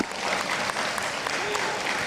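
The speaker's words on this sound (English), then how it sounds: "Let's give our cohort 2 a round of applause." Steady applause fills a hall at a white coat ceremony as a medical cohort is honoured, dense clapping at an even level with a faint voice briefly underneath.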